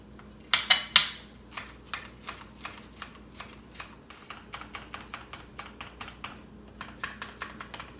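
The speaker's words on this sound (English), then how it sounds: "Chop up this garlic" A knife chops garlic on a cutting board in rapid, evenly spaced taps, close and clear. It comes during lemon cream pasta primavera prep with broccoli, mushrooms and ditalini, a few louder strikes early on.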